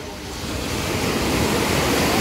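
Black Sea surf washes onto the beach at Alushta, Crimea, a loud, continuous roar of waves swelling slightly and mixed with wind buffeting the microphone, with no voices.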